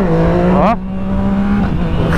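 Motorcycle engine revving hard and climbing in pitch, then dropping sharply at a gear change before pulling again at a steady, loud drone close to the listener.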